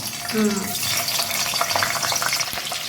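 Two or three green chillies sizzling in hot oil heated for frying fish, a busy crackling hiss heard close up with a voice speaking over it.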